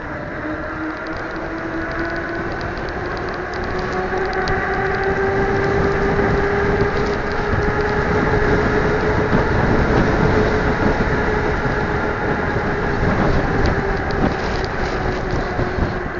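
Strong wind buffeting the microphone of a cheap action camera mounted on a car, a loud continuous roaring rumble with a faint steady tone beneath it and no talking.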